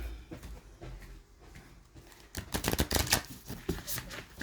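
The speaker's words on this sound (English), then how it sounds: "Let's have a bit of a shuffle." Oracle cards being shuffled close up, a soft riffling patter that starts quietly and grows into a louder, rapid burst of flicking and slapping.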